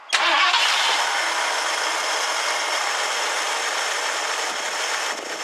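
A 1969 Ford Econoline van cranks and fires at once, then settles into a steady, loud idle that holds for several seconds. The engine is close, with no talk over it.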